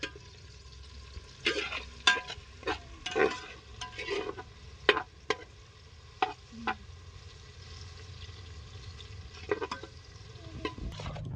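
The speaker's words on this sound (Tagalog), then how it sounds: "habang ginigisa po natin ang ating bawang, sibuyas at luya" Garlic, onion and ginger sautéing in a pan for papaitan, a quiet background sizzle broken by a series of irregular, sharp scrapes and knocks of a spatula against the pan.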